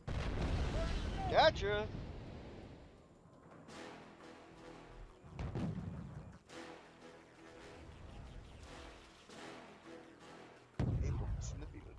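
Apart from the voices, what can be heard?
artillery stopping fire barrage in Wargame: Red Dragon video game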